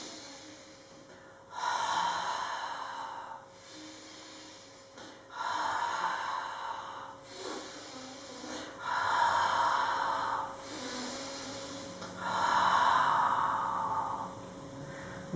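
Children imitate Darth Vader's breathing in a kids' Star Wars class, producing four loud, drawn-out breathy 'ha' exhales in a slow, even rhythm, each lasting about two seconds with short pauses between.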